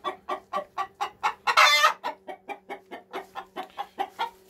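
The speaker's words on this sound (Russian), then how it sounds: "А вот это смешанные мои курочки" Rapid, rhythmic clucking from mixed-breed hens with mycoplasmosis close by, a steady string of short calls with one brief rasping squawk partway through.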